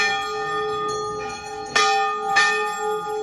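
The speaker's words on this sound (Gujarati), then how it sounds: "ઘંટનો અવાજ સરસ" The bell at the Dhari Devi temple in Uttarakhand rings close by, its sustained metallic tone humming throughout, struck sharply twice more with bright clangs near the middle.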